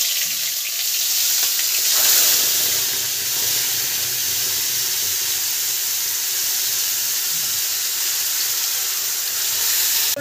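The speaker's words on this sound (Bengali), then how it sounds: "তেলটা গরম হয়ে গেছে, জিরে ফোড়নটা দিয়ে দেবো। ওগুলো দিয়ে দিচ্ছি, মশলা বাটাটা।" Cumin seeds and a ground spice paste sizzle in hot oil in a pan for pea-filled kochuri, a loud, steady crackling hiss that runs unbroken for ten seconds, close up and with no voices.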